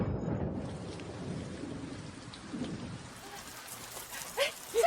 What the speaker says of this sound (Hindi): माँ बारिश हो रही है। अरे कितनी अच्छी बारिश है।